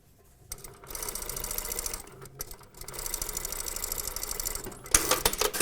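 A sewing machine stitches a back tack on a toile for a box top, running in two steady bursts of rapid, even needle chatter separated by a short pause, close and clear, with no voices.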